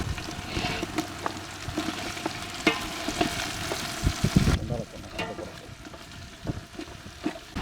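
Turmeric, tomato and other ingredients for a country chicken gravy sizzle and fry in a pan, a continuous crackling hiss with scattered spoon scrapes and taps, and a voice speaking over it.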